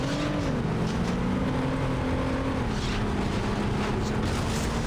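Race car engine in the Saints Row video game, a steady droning whine that shifts pitch as the car takes a wide corner, continuous and fairly close with no voices over it.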